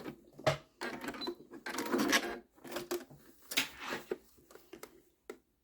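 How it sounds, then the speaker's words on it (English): A home sewing machine backstitches a gift card holder wallet in short, loud bursts of mechanical whirring and clatter, several runs separated by brief pauses, with no voice over them. "I'm going to put my stitch length down again, take a couple of stitches back"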